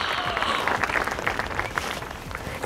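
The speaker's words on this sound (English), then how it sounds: "The crowd goes wild for Pirate Polly." Crowd applause and cheering fill the scene as a dense, continuous wash of clapping with scattered shouts, loud and sustained, ending with a brief sharp burst.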